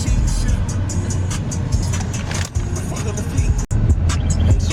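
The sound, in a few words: road traffic noise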